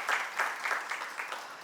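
A short burst of audience applause for a flautist at a music event, with clustered, uneven claps rising and falling in quick waves over under two seconds.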